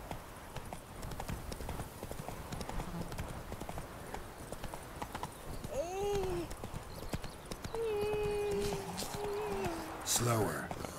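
Roach the horse in The Witcher 3 gallops with steady, loud clip-clopping hooves throughout, and a neigh rises near the end, while someone talks over the game sounds.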